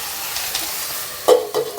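Cabbage sizzling in a pan as a lid goes on, with soft frying hiss throughout and two brief clattering knocks near the end, no talking.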